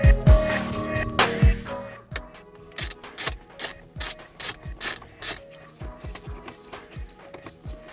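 A hand ratchet works loose the captured screws holding a Subaru steering wheel airbag, clicking in quick close bursts with short pauses between strokes and a few knocks at the start.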